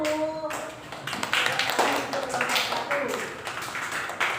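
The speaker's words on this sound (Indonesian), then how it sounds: "Tepuk tangan untuk kelompok 1." Scattered clapping from a classroom of students for a student group, thin and uneven with a few distinct hand claps, moderately near, mixed with some voices.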